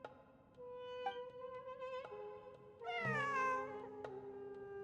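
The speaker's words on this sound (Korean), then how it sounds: "환청이 아니야. 진짜 고양이야." A cat in the video game Genshin Impact meows in a few distinct calls, one long drawn-out cry in the middle, fairly clear over quiet ambient game background music.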